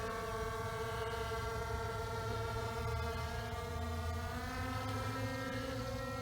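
A Skydio 2 drone flying at full throttle, its rotors giving off a steady, droning whine with several layered tones that shift slightly in pitch, fairly faint and heard alone.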